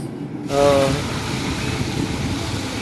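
A Delhi metro train pulls into the station, producing a sudden loud rush of rumbling noise that then holds steady as a continuous roar.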